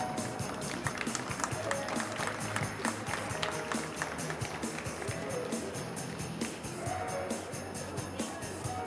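Crowd applause at an indoor dog show for the judge, a steady loud clatter of clapping hands with a voice talking over it.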